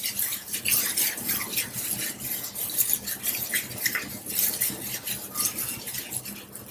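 Chicken pieces for malai boti being mixed with oil in a bowl, giving a steady run of wet stirring and clinking of utensil against the bowl, close and continuous with no talking.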